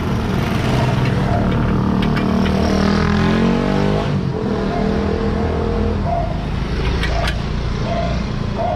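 A passenger jeepney engine revs loudly and close by on a city street during a parking clamping operation, holding a steady, throbbing drone with rising and falling pitch.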